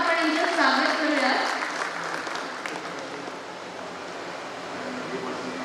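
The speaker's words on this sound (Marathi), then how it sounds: "टाळ्या वाजवून आपण यांचं स्वागत करूया." An audience at a foundation's service ceremony claps to welcome a donor, a broad wash of applause that starts fuller and then thins to a softer, steady patter, heard at a moderate distance.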